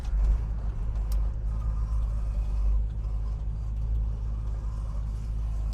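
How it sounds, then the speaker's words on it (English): A 1966 Ford Mustang GT Fastback engine idling, a steady deep low rumble with a smooth even burble, close and moderately loud with no talking. "the engine sounds absolutely awesome"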